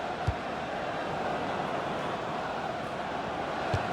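Steady stadium crowd ambience from a FIFA 17 football match, a continuous broad roar of spectators holding at an even level throughout, with a couple of brief thuds near the start and end.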